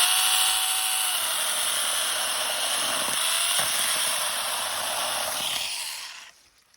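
A Tex.AC mini power saw cuts through a tree branch, giving a loud, steady, high-pitched buzzing whine with a brief bump mid-cut before the motor winds down and stops.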